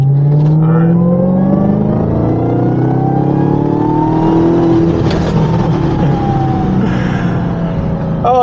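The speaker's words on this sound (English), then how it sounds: "I'll do like a third gear wide open throttle pull." A supercharged Dodge Hellcat pulls hard at wide open throttle in third gear, engine pitch climbing steadily and loudly with a whine over the roar, heard close from inside the car.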